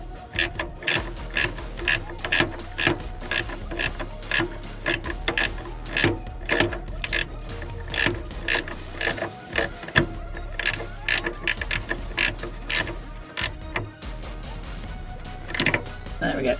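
A ratchet clicks in quick repeated bursts while bolts are tightened on the heat shield of a Citroen Relay van, close and loud, with brief pauses between runs of turns.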